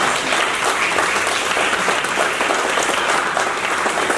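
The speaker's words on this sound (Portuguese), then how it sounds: "porque elas merecem palmas sim de novo" Audience applause at a design panel discussion, dense and even clapping that holds steady and fairly loud throughout, with no talking over it.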